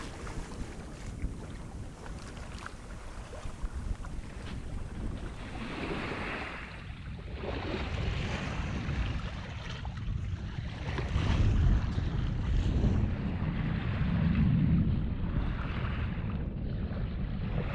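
A sailboat moves under wind between tropical islands off Koh Samui in the Gulf of Thailand, with steady wind rushing over the microphone and soft water wash against the hull, no voices.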